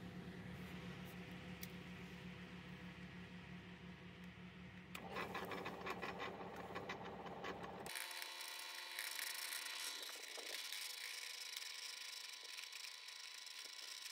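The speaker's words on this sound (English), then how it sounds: "The motor is very slow and the gate has an opening length of 4 meters, so it takes some time until it fully opens." An old electric motor with a chain drive slowly opens a 4-metre gate, giving a faint steady mechanical whir and rattling clatter that shifts in tone twice as it runs.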